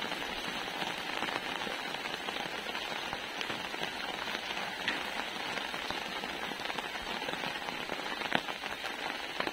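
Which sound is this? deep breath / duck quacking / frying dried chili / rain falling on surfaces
rain falling on surfaces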